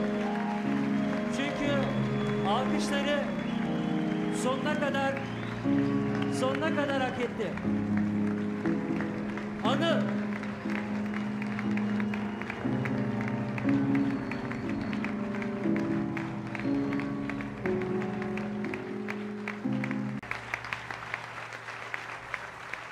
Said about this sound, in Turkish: Ayakta alkışlıyorlar seni.